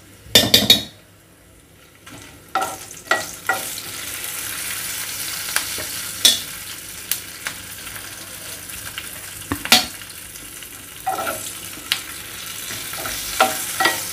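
Cumin seeds and dried red chilies sizzle in hot tempering oil for a raw tomato chutney, a steady close-up fry broken by sharp clinks and scrapes of a spoon stirring against the pan.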